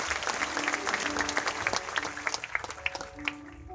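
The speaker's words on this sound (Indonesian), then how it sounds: "Kita berikan tepuk tangan buat Tuhan." Church congregation at a healing crusade in Manado applauding, steady dense clapping at moderate distance that gradually thins toward the end.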